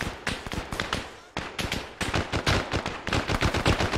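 Rapid gunfire from a Vietnam-era ARMA 3 mod battle, with dense, loud bursts of automatic and single shots crackling nearly nonstop with only short pauses.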